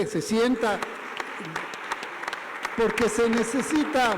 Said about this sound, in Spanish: un aplauso para ellos, fuerte,